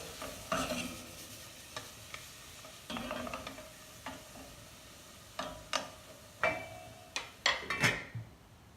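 Onions added to melted butter in a pan on low heat, with a quiet sizzle under repeated stirring scrapes and clatters of a utensil against the pan, growing busier toward the end.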